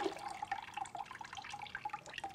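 Wet fabric is lifted out of a dye bath during shibori stitch-resist dyeing, giving a short burst of close, continuous trickling and dripping water with no talking.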